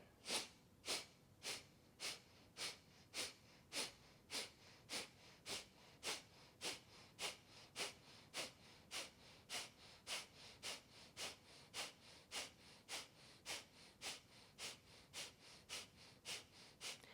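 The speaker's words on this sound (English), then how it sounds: "let's practice kapala bhati, skull shining breath, and we'll pump the belly 36 times" Kapalabhati skull shining breath in a yoga class: a steady train of about three dozen sharp, forceful exhalations driven by belly pumps, each a crisp close puff at a brisk even pace, with no voices.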